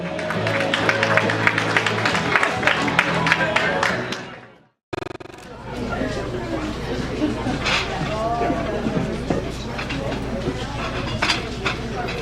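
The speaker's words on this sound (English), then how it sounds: "Give a round of applause, everybody." Guests at a wedding reception clap and cheer loudly, the clatter first mixed with music, then cut off briefly before returning as dense applause and crowd chatter with voices rising over it.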